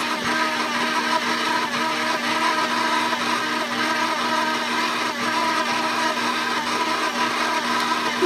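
An electric mixer creams butter and sugar for a Polish cheesecake at lowered speed, a steady whirring motor drone with a constant pitch, close and continuous throughout with no talking.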